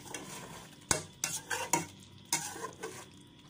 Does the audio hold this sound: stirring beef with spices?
yes